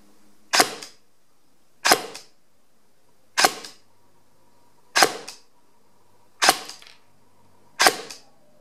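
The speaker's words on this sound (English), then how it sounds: "Okay, now let's do the shooting test." An airsoft AS Val rifle fitted with FPS-softair gearbox parts fires six sharp, loud single shots at an even pace, about one and a half seconds apart, with quiet gaps between them.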